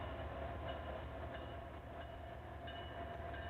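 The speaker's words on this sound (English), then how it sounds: "So this is an eastbound container train." An eastbound container train rumbles past at moderate distance in Galesburg, a steady low roar of rolling wagons with faint rhythmic clatter and no voices.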